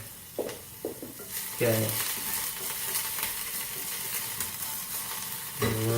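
Onions frying in a hot pan give a steady sizzle with stirring scrapes, and someone speaks briefly between them.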